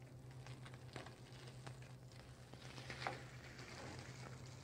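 Snapper fillets fry in a pan with a soft, steady sizzle and faint crackle, quiet and continuous with a low hum beneath.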